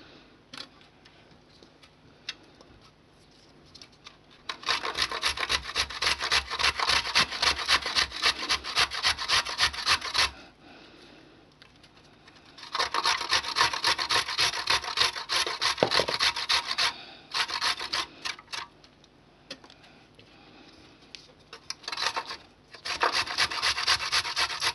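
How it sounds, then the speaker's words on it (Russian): Carrots being grated on a hand grater for crunchy sauerkraut, a loud steady rasping scrape in rhythmic strokes, with two long bursts and a shorter one separated by quiet pauses, no talking. "сейчас дотрем остатки, которые у нас оставались от морковочки."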